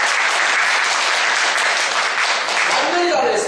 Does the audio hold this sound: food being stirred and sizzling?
no